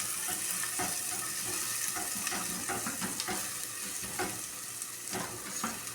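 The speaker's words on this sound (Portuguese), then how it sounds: "Deixa eu mexer aqui um pouquinho mais, ó, a cebola." Onion frying in a pan, a steady close sizzle with intermittent scraping stirs, moderately loud and free of speech.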